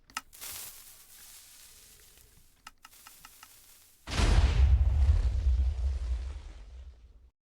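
Minecraft TNT cannon fire: a sharp pop and a series of faint ticking shots, then a loud rumbling explosion bursts in and roars on for several seconds before cutting off.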